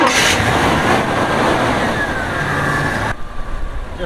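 The engine of an A-Team style van fires up and revs, a loud, close mechanical roar holding steady before dropping abruptly to a lower, rougher idle near the end.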